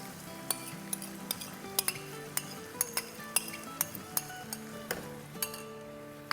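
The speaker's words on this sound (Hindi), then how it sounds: "दही को पहले थोड़ा सा मिला लेंगे इस तरह से" A spoon stirring yogurt in a pot during cooking of aachar gosht, with repeated light clinks of metal against the pot in a steady rhythm over a faint sizzle, close up and with no talk.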